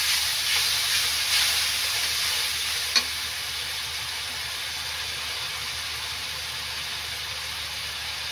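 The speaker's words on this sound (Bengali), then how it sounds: "আমি মশলাগুলোকে খুব ভালো করে কষিয়ে নেব" Ginger paste and green chili paste stir-fried in hot oil as a masala for a spicy Bengali mutton liver curry, giving a steady close sizzle and hiss with a single faint utensil tap.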